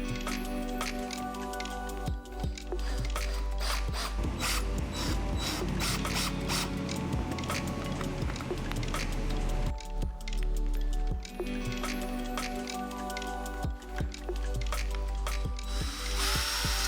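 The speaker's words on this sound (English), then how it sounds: "There is a lot of drilling and screwing in this build." Power drill driving screws to fix hinges into plywood panels for a folding flat-pack sofa, with repeated close whirring bursts and ratcheting clutch clicks, short pauses between runs.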